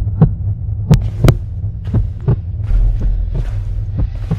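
A heartbeat sound effect plays as a steady, loud, close throbbing pulse of paired low thuds over a constant deep hum, with no voices.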